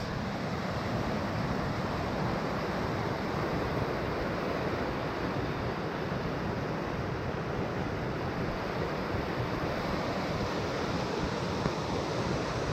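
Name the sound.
river flowing at Breitenbush Hot Springs, Oregon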